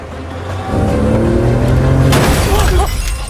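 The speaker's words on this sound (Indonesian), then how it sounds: "Ternyata polisi yang menghantam truknya Pico dan Sarah." A police vehicle rams a truck inside a tunnel in a film scene, a loud, sustained engine roar swelling into a crunching impact with a burst of shattering debris near the end.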